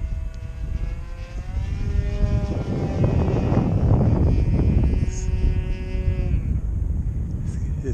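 A 60-size RC model plane, a Phoenix Tiger ARF with an Evolution 60 glow engine, drones steadily overhead, its buzzing whine holding and shifting pitch as it flies, loud and continuous throughout.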